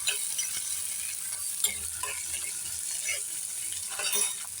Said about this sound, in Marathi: आता आपण टोमॅटो घालूया. टोमॅटो देखील चांगला परतून घेऊया.